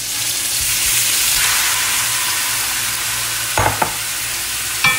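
Shrimp sizzle in hot olive oil in a pan over high heat, a steady loud frying hiss with a couple of brief clinks and stirring knocks near the end, no voices.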